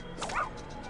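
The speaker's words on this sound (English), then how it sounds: "oh, poor puppy." A dog in the 1997 video game Fallout gives a brief, high yelping whimper that rises and falls once, then fades into quiet background.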